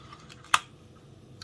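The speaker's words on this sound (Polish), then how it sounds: "Teraz zobaczmy, który robi klik" A single sharp relay click from a Bang & Olufsen Beomaster 5000 amplifier under repair, one crisp snap near the mic against a quiet background, followed by a fainter tick a moment later.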